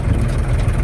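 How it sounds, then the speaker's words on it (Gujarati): A tractor loaded with soil chugs along between two hills near the Banas river, its low, steady engine rumble close and continuous. "જુઓ બે પહાડોની વચ્ચે ટ્રેક્ટર નીકળી રહ્યું છે"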